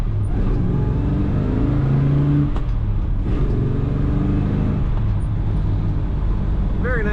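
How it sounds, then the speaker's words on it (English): A 1969 Chevrolet Chevelle SS 396 big-block V8 engine rumbles and revs steadily up close, its low drone rising and falling, with a brief voice at the end. "Very nice power from this engine."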